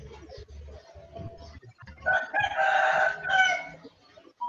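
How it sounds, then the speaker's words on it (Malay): A rooster crows once, a loud drawn-out call rising clearly over soft background room noise after a few low murmurs. "Ayam pun dah bunyi."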